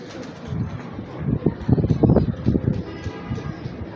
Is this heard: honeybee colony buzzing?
no